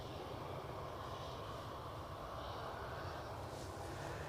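An EasyJet airliner departs Edinburgh Airport for Berlin, its engines a steady, broad roar that holds at an even level throughout, with no voices.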